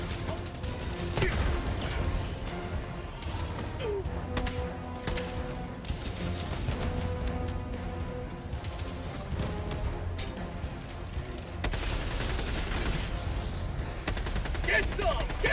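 Dense gunfire from the video game Helldivers 2, with rapid automatic bursts and sharp shots crackling almost nonstop, plus occasional crashes and game voices beneath the noise.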